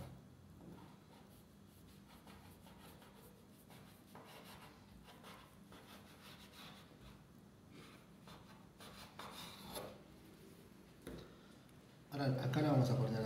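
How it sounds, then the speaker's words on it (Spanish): A knife trims and cuts the side of a cremona pastry, a soft continuous scraping and rubbing through dough lasting several seconds, close and quiet, ending in a louder burst of unrelated noise. "ahora lo que vamos a hacer es con un cuchillo vamos a emprolijarla. Vamos a cortarle acá en el costado."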